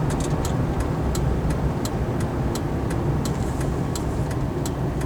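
A car driving off a highway onto a gravel road, with steady loud road rumble and engine noise filling the cabin, plus a regular faint ticking like a turn signal throughout.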